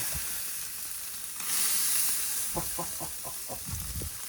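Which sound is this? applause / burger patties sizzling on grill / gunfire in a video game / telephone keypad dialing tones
burger patties sizzling on grill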